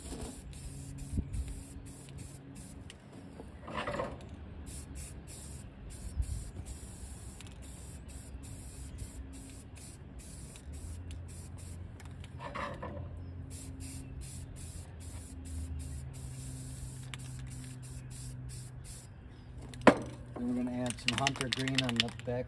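Satin espresso spray paint hisses from an aerosol can onto a daisy pail in a few separate bursts, fairly quiet, with soft background noise between sprays and a sharper click near the end.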